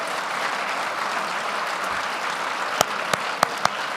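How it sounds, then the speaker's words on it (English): Audience applause for the head table at a formal banquet event, dense and steady clapping from a large crowd throughout, with a few sharp louder claps standing out near the end. "Now you can applaud."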